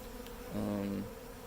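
Bees at a Flow Hive make a brief, close buzzing hum that swells for about half a second over a low background drone.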